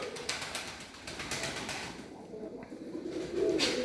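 Soft pigeon cooing nearby, low murmuring calls over a rustly background with occasional wing or feather sounds.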